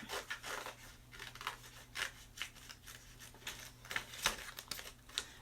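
Scissors cut through a cardboard toilet paper roll in quick, uneven snips and rasps, close and fairly quiet.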